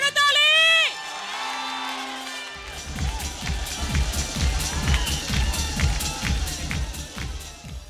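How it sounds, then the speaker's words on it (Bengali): A studio audience at a Channel i tribal fair award ceremony breaks into loud applause and cheering with whoops after a brief announcement voice, the clapping and shouting continuing strongly to the end. "অভিনন্দন, অভিনন্দন এবং জোর করতালি।"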